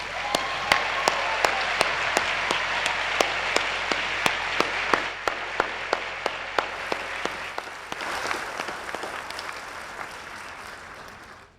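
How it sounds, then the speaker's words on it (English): An audience at a ceremony applauds the Brian Sand Quintet with sustained clapping, strong sharp claps standing out near the front, gradually thinning and fading toward the end. "join me in giving the Brian Sand Quintet a warm round of applause"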